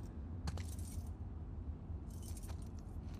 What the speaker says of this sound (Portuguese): Quer tentar as chaves?